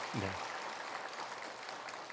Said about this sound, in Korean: 우리 큰 박수 한번 하겠습니다.